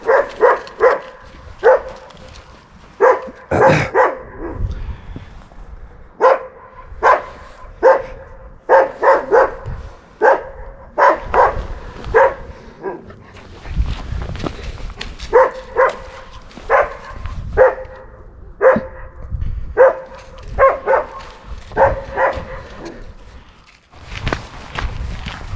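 Several dogs give repeated short barks in bursts, close by and loud, greeting someone outdoors in snowy night weather, with footsteps and shuffling between the volleys.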